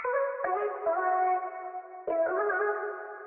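Arcade-style vocal samples treated with reverb and EQ, two sustained, tonal sung phrases with echoing tails, clean and alone in a short loop.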